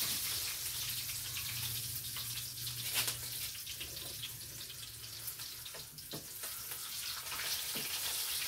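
Sardines fry in a pan over a wood fire, producing a continuous close hiss and sizzle with scattered small pops and crackles throughout, and no one speaking.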